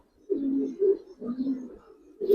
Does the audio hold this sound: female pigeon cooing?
yes